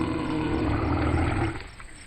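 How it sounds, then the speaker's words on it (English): A moose growls low and rough at wolves at night outdoors, a sustained, loud rumbling roar that fades out at the end, with no voices. "That's a moose growling at these wolves to intimidate them."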